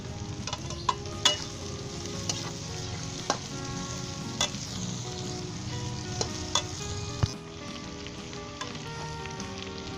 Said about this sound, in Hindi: अब इसके अंदर आप आलू शामिल कर दें और अच्छे तरीके से हिला दें